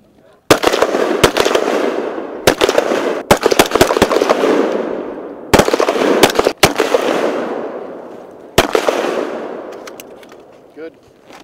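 Gunfire during a military exercise in Arctic conditions, loud nearby reports with sharp cracks and echoing tails, several shots in irregular bursts, spaced with short pauses, and faint voices between them.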